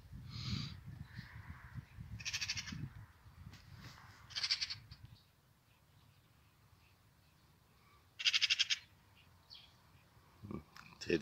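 A crow in a dog park gives several loud, harsh caws in separate bursts spread across the stretch, over a low rumble of background noise.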